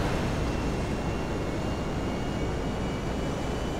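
Steady, broadband jet engine roar from an aircraft in GTA 5 Online, a constant dense rush with no change in level, heard alone without speech.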